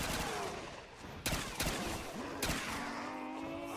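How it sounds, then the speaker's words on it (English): An underbarrel shotgun attachment fires in Black Ops 3 Zombies, three sharp, loud blasts spaced irregularly over a continuous layer of game music and effects. "The underbarrel shotgun sucks."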